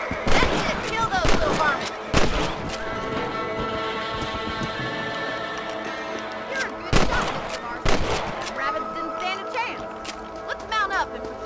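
Gunfire rings out in Red Dead Redemption, with several sharp shots spaced across the scene over hoofbeats and ambient noise, and voices speak between the shots.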